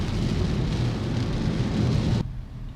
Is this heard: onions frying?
no